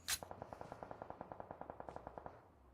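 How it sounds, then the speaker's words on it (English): Automatic gunfire in the mobile battle royale game PUBG Mobile, a rapid burst of about twenty evenly spaced shots fired at a fairly distant, faint level, with no commentary over it. "You hear the gunfire, and we are about to have a fight."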